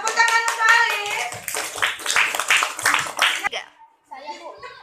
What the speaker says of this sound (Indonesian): tepuk tangan untuk Alif